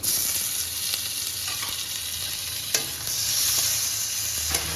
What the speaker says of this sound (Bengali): এবার এটা একটু কষবে টমেটোটা একটু নরম হবে ততক্ষণ এটাকে ভাজবো